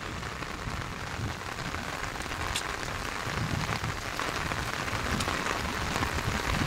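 Heavy rain pours steadily during a flood in Karimganj, Assam, a dense continuous roar of drops on surfaces and water, holding at an even, fairly loud level throughout with no voices.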